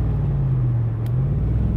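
1965 Shelby Cobra Factory Five replica engine held at quarter throttle, a steady, deep, rumbling drone close by with no talk.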